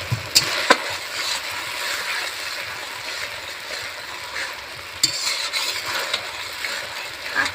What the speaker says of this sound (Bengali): জল দিয়ে মশলাটাকে খুব ভালো করে আমি কষিয়ে নেব।